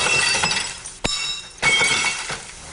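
Glass from homemade soda bottles that burst in a fridge, heard as bright crunching and clinking with sharp breaking transients, loud and close, no speech.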